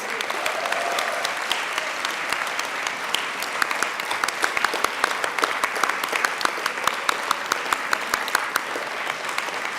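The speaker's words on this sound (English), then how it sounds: "Let us have a huge round of applause for the fellows." A large audience in a convocation hall gives a long, sustained round of applause for the Young India Fellowship class of 2024, dense and even with sharper individual claps standing out.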